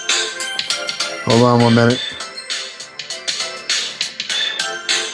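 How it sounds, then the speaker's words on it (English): A phone ringtone cuts in for under a second in a home kitchen during a live dinner cook, a bright, loud tonal burst between stretches of a person talking. "That was my phone."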